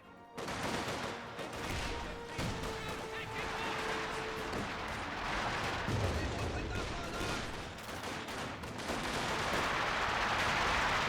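A high-explosive artillery barrage from the strategy game Company of Heroes 2 pounds away in dense, overlapping blasts and gunfire, loud and continuous, with a commentator talking throughout.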